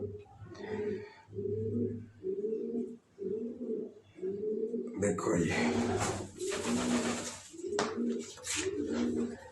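Pigeons coo in a steady, low, repeated rhythm nearby while someone speaks briefly and some rustling and fluttering sounds join in.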